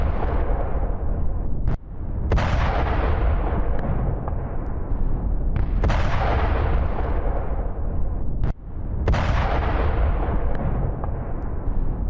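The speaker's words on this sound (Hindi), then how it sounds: "रूस की सेना का ये बारूदी एक्शन यूक्रेन के टैंक को टारगेट" Explosive strikes from a Russian army attack on a Ukrainian tank in news footage: heavy, loud booming blasts with a rumbling low end, and three sharp detonations spread over a sustained roar without speech.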